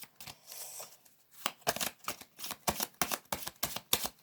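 Oracle cards themed on essential oils are shuffled by hand, a rapid run of crisp riffling flicks that starts with soft rustles and builds into steady, close, fairly loud bursts with no talking.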